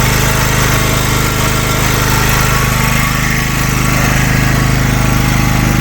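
Petrol generator converted to run on gas, its engine droning loud and steady at close range with a constant hum and no break.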